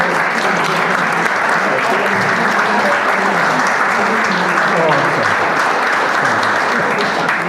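Loud, dense applause from a crowd at a community event at a mansion, a continuous wash of clapping that holds steady without pause.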